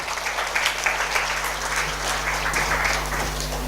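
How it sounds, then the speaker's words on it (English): An audience gives a sustained round of applause, a dense, even wash of clapping over a low steady hum, close and continuous. "Please give them a huge round of applause."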